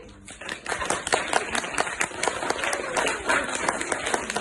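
An audience applauds actors before a Ukrainian Vertep nativity play staged in Norway, with dense, sustained clapping from many hands throughout and a faint voice underneath.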